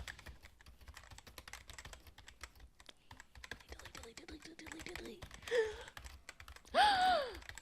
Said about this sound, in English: And I put typing sounds under it.